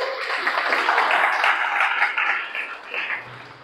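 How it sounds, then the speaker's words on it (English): Audience applause at a Toastmasters meeting: a full round of steady clapping from many hands, loud and close, tapering off toward the end. "A big round of applause for yourself."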